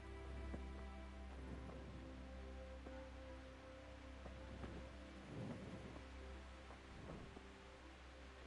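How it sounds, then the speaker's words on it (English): Rain falls steadily in the medieval role-playing game Kingdom Come Deliverance, with low rumbles of thunder rolling in several times; the storm is faint and continuous, with no voices. "It's raining."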